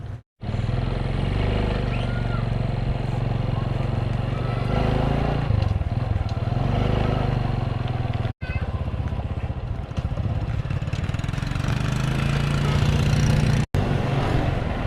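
A motorcycle engine drones steadily throughout while riding, loud and close, with low rumble and wind, briefly cutting out twice.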